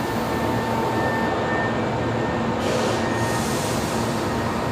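A Jetstar airliner rolls for takeoff at Brisbane Airport, a loud steady roar of engines with broad rumble and a faint tonal whine, continuous throughout.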